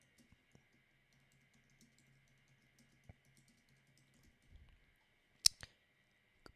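Sparse keyboard clicks and typing taps on a computer keyboard, soft and scattered over a faint steady hum, with a sharper louder click cluster near the end while someone enters a chat prompt.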